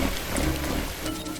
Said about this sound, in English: That water's coming from the sprinkler system.